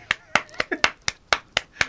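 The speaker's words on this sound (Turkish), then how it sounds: "Abi bir alkışlayabilir miyiz bence Huawei'yi?" One person gives about eight close, crisp hand claps in an even, brisk rhythm, with nothing else heard.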